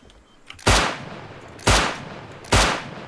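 Three loud, separate bursts of video game gunfire from a raiding game, spaced about a second apart, each a sharp blast with a decaying tail over a faint background hum.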